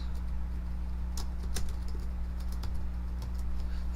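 Keys clicking on a computer keyboard while typing commands into a Linux terminal, a few scattered taps and short bursts over a steady low hum, close and fairly quiet, with no talking.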